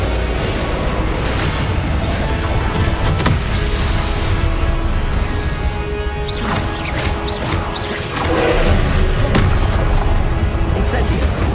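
Fire spell Incendio cast in Hogwarts Legacy, a dense game mix of loud whooshing bursts, crashes and booming impacts layered over continuous combat noise, with a voice speaking intermittently underneath.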